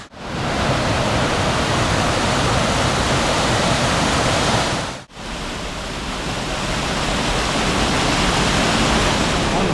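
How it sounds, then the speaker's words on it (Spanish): Loud, steady roar of water rushing through a cave in Guatemala, a dense continuous wash like a waterfall filling the space, briefly dipping once midway before surging back at full strength. "Miren, aquí está el agua"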